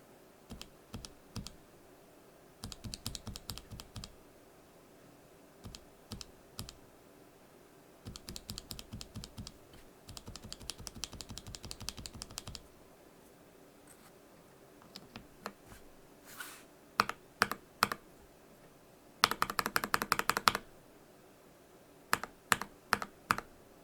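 Typing on a mechanical keyboard with Gateron Yellow KS-3 switches, bursts of rapid, close clicky-clacky keystrokes separated by pauses, ending in a few isolated single presses.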